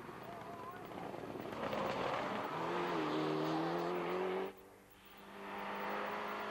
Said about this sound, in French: Et là, c'est Theodoros Aliferis avec une Mitsubishi Lancer.